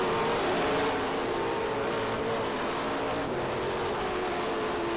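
Race cars roar through the turns at Road Atlanta, a continuous engine drone at moderate distance with a shifting pitch as they corner.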